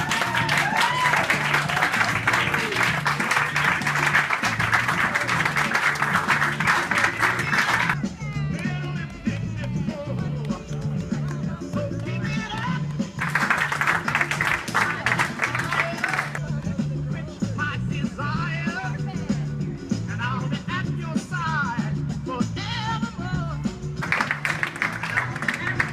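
Wedding guests clap during a ceremony so the couple can process out, bursts of crowd applause alternating with quieter stretches under a steady musical or droning background.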